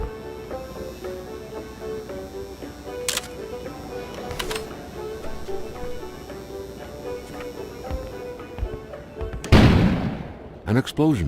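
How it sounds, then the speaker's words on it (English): A sudden explosion bursts outside near the end as a loud, broad blast. Before it there is a quieter background of faint tones and scattered clicks, with a few short knocks after the blast. "An explosion suddenly occurred outside."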